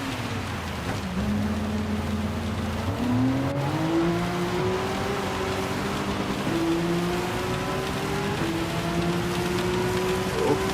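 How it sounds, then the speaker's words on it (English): Porsche 911 GT3 RSR racing in heavy rain at the Red Bull Ring in a sim racing game: a steady, loud engine note climbs and shifts through gears over a constant hiss of rain and spray, with no talk. "we are racing at Red Bull in the rain, which is gonna be really terrifying"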